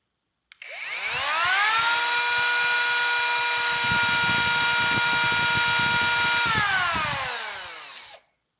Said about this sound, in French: c'est un rabot qui va être destiné essentiellement au moulurage. Alors je l'ai testé au préalable, hein, mais je vais vous le faire écouter